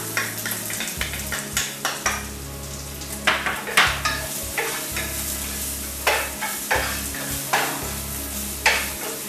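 Garlic sautéed in a pan with cumin seeds for achari aloo: a soft continuous sizzle punctuated by regular clinks and scrapes of a spatula stirring, close and clear, no voices.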